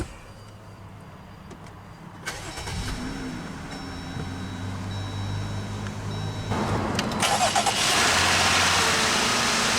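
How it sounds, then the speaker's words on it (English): A 2022 Jeep Gladiator Sport S pickup engine cranks via push-button ignition and starts, then settles into a steady idle hum, rising to a louder, rougher rumble near the end. "let's go ahead and start the engine, and you do get push-button ignition."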